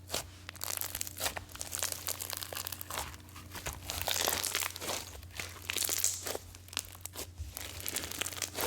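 Crunchy floam slime squished and pressed close up, a continuous stream of crisp crackling and popping bead crunches in uneven bursts, quiet and intimate with no talking.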